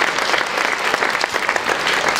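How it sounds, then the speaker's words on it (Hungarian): Audience at a Hungarian folk dance festival in Marosszentgyörgy claps steadily, a dense close wash of applause that holds at full strength throughout without a break. "Bátorítsuk tapsal, nem szégyeli ő magát"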